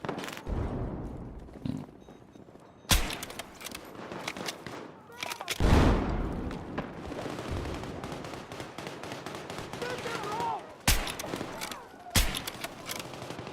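Sniper rifle fire in a video game: a few loud, sharp shots stand apart over a busy background of game sound, with brief gaps between them.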